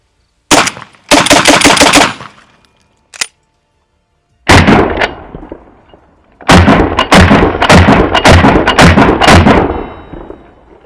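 A Benelli M4-clone S4 12-gauge shotgun fires buckshot in loud, sharp bursts: two close blasts, a lone shot, then a rapid run of several more reports with brief echoing tails.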